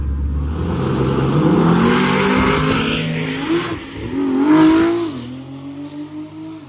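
A quick drag car, a newer platform running low eights in the quarter mile, roars under hard acceleration, its engine note climbing through gear changes with a brief dip that may be a bog, loud and close, without voices.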